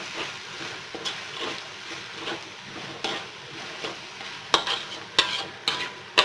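Sambal bunga kantan with anchovies, sugar and salt is stirred in a pan, a soft sizzle running under repeated scraping strokes and sharp clinks of a utensil against the pan toward the end.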